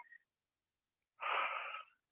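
Deep, steady breath during a yoga pranayama and core session, one long airy exhale of under a second, close and fairly soft, standing alone between quiet gaps.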